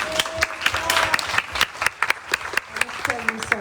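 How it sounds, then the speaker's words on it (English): Audience applause filling a room at a panel presentation, a steady wash of clapping with sharp individual claps standing out, while voices talk over it. "I would like everyone in this room to give a big round of applause for Professor Saul here."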